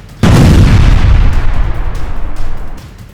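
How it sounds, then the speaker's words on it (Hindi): A loud, close blast from a bomb thrown during a shooting attack, a single sharp boom that rolls out into a decaying rumble over about three seconds. "शूटर्स अंधाधुंध फायरिंग कर रहे थे और इस फायरिंग के बीच ये शख्स धुआंधार अंदाज में बमबाजी कर रहा था"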